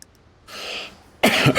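A person coughs, with a soft breathy sound, then after a short pause a sharp, louder hiccup-like burst follows, close and with no talking.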